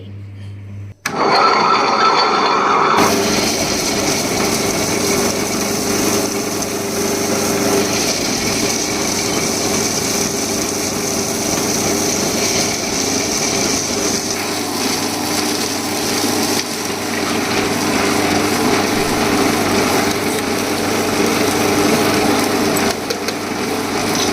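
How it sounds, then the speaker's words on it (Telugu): A wet grinder grinds soaked black gram (urad dal) into smooth idli batter, giving a loud, steady motor whir and rumbling churn that runs without a break for the whole stretch, with no talking. "ఇప్పుడు గ్రైండర్లో వేసి రుబ్బాలి"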